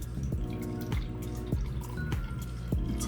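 Water is poured into a small container to set up propagation of a ZZ plant cutting. The sound is a series of close, hollow glugs and bloops, about five or six, falling in pitch at a fairly regular rhythm.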